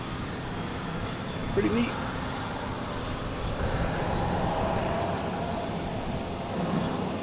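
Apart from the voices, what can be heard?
JetBlue special livery airliner at Boston Logan Airport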